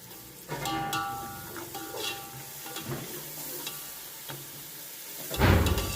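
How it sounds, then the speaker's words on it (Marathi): Onion and tomato frying in a pan for paneer pulao: a low continuous sizzle with occasional stirring scrapes, ending in a louder scrape, close and fairly quiet, with no speech. "कांदा वगैरे भाजून घेतला आहे टोमॅटो टाकला आहे"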